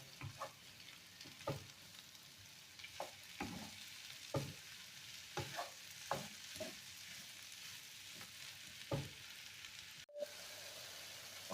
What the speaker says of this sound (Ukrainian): Все разом перетушу. Щоб баклажани стали нігенькі.